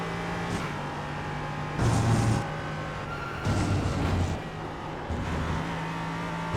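A race car in iRacing at Atlanta works through a corner. The engine drones steadily, with louder surges as it brakes and then gets back on the throttle at the exit, and no one talks.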